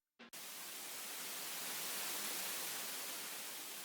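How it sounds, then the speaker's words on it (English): A metallic white noise sweep in a dance track enters after a brief click and holds as a steady, wide hiss that swells gently and stays at an even level, with nothing else behind it. "Sort of like an metallic-y white noise out."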